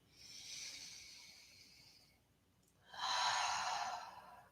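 A slow, deep breath during a calm sleepytime yoga session, a soft airy inhale followed after a pause by a longer, fuller exhale, close and quiet with no talk.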